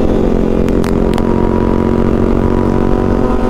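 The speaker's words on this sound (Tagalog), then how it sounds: "Maganda yung tunog ng big bike." A big bike motorcycle engine idles steadily and loudly nearby, a continuous low rumble with a few faint clicks over it.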